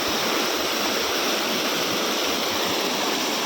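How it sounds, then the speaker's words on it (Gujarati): Water rushes steadily and loudly, a constant close-up wash like a stream pouring over rocks, with no voices. "ફૂલ પાણી જાય"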